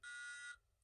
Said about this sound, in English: One long low beep.